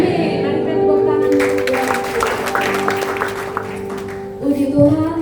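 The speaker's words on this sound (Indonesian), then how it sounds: "Mari kita tepuk tangan." A church congregation claps together during a worship service in Makassar; the dense applause swells midway under sustained music and voices, then fades into talk.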